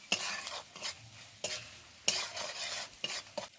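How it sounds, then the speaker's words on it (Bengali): Spices such as cumin, coriander, chilli and turmeric powder being stirred and sautéed in a pan with salt for a vegetarian omelette curry: soft scraping strokes with a faint sizzle, a few sharper spatula knocks, close and fairly quiet. "এবার সব কিছুকে খুব ভালোভাবে কষাবো।"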